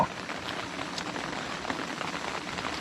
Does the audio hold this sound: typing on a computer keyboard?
no